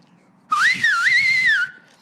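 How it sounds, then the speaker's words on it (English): A person whistles without using fingers: one clear, wavering melodic whistle lasting about a second, close and loud against a quiet room. "I learned how to whistle without using your fingers on this trip."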